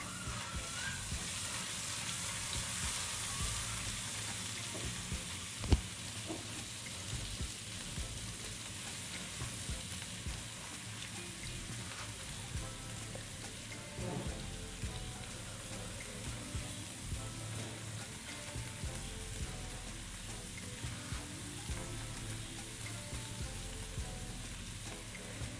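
Garlic and ginger paste fries in hot oil for keema do pyaza, giving a soft, continuous sizzle and crackle with occasional light clinks, heard alone.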